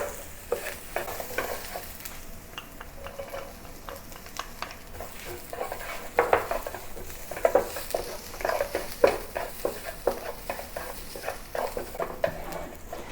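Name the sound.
sauteing onions and garlic in a pan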